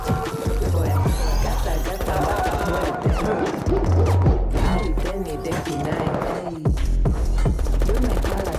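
Gunfire in the Overwatch 2 animated short Kiriko, heard as dense, rapid volleys of shots crackling continuously throughout, mixed with a loud, busy score and action effects.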